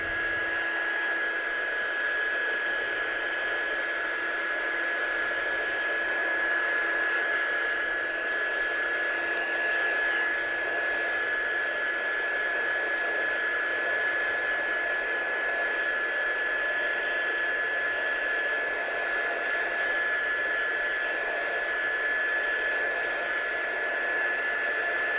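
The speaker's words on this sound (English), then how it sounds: "I'm just going to heat set that now." A heat tool sets ink on a handmade card, blowing as a steady, loud, close whirring roar with a thin whine throughout, unbroken and alone, with no talking.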